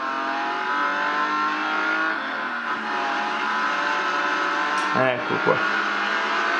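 A racing video game plays on a Xiaomi Mi Max 2 phone, with a steady droning car engine followed by a brief crash impact near the end, as someone talks over it.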